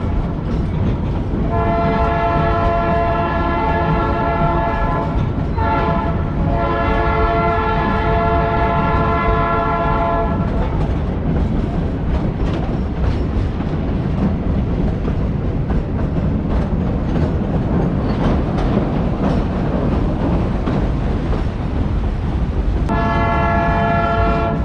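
A Georgetown Loop Railroad train in Georgetown, Colorado rumbles steadily past while its horn blows in long harmonic blasts, stopping partway and sounding again near the end.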